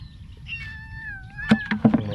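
A stray cat following fruit pickers lets out one long, wavering meow, then a few short knocks or taps follow close by over low background rumble.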